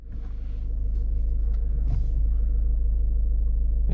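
A VW Polo V 1.6 TDI 90 HP diesel with a 7-speed DSG gearbox settles into a steady, close low rumble at idle, swelling slightly at first and then holding even throughout.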